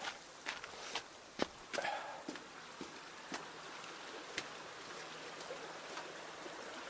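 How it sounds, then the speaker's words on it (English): A gentle creek babbles continuously in the background near a bridge while footsteps crunch intermittently nearby. "It's a babbling brook today."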